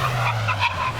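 Tyres squeal and skid in a brief, continuous screech as a car brakes hard from 60 mph, with engine rumble underneath.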